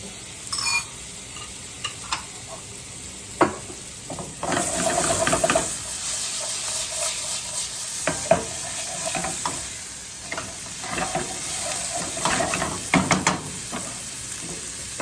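Garlic cooks in a frying pan with a steady sizzle, broken by sharp scrapes and clicks of stirring and a louder burst of frying partway through; no one speaks.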